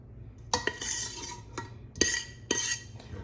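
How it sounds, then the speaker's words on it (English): Metal spoon scraping and clanking against a metal pot while strawberry jam is scooped into a jar, about six sharp, close scrapes and knocks at irregular intervals, with no voices. "I'm making so much noise with that metal on metal."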